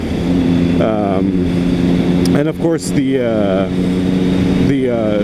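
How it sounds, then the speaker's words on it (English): A 2006 Triumph Speed Triple motorcycle with Jardine exhaust pipes rumbles steadily at idle, close and loud, while someone talks over it. "Jardine exhaust pipes, which add a nice little sound to it"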